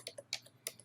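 Light, quiet keystrokes on a computer keyboard: three or four separate taps spaced about a third of a second apart, with no talk over them.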